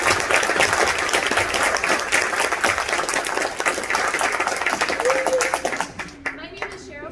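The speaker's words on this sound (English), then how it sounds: "let's give one more round of applause to our dean students" Sustained, dense applause from a concert audience cheering student string players at a school summer enrichment concert, loud and continuous before tapering off into scattered claps near the end.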